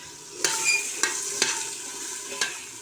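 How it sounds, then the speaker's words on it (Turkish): Food sizzles and crackles while being sautéed in a hot pot and stirred, with a few sharp scraping clinks of a utensil against the pan. "Güzelce kavuruyoruz."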